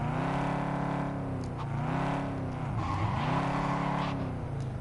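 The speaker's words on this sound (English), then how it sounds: "It sounds a bit watered down, doesn't it? Like it sounds like the exhausts have been like resonated or something." A Cyberpunk 2077 car engine revs up and down through several shifts, with a hollow, resonant, somewhat watered-down exhaust tone and a hint of tire skid, steady and fairly close.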